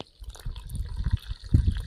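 Water is poured to refill a container at a fishing spot, a close, uneven gurgling and splashing that builds and pulses for a couple of seconds.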